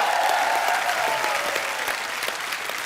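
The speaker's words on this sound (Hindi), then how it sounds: "जोरदार तालियां" A crowd claps loudly and continuously, dense applause that fades slightly toward the end.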